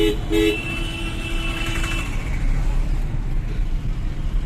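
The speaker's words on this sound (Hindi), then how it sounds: "ट्रैफिक" Busy road traffic near a beach outside Visakhapatnam, with a steady rumble of passing cars and motorcycles and brief horn toots early on, moderately loud and continuous.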